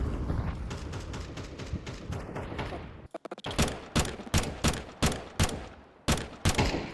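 Rapid gunfire bursts in Counter-Strike 2 on the Dust2 map, fired while the player strafes, with a stuttering volley followed by evenly spaced sharp single shots, loud and close.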